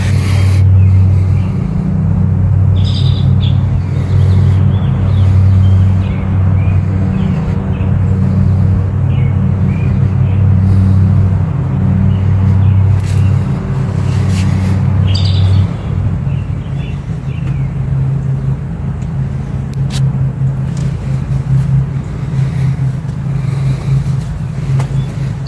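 A 1968 Oldsmobile Cutlass S idling steadily with a low, even engine rumble that continues throughout, with faint outdoor background sounds and no talking.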